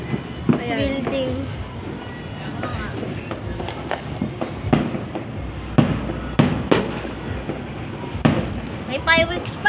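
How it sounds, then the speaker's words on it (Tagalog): New Year fireworks go off near a building, with sharp bangs and crackles at irregular intervals over a steady crowd hum, while people talk and exclaim nearby. "May fireworks pa, no?"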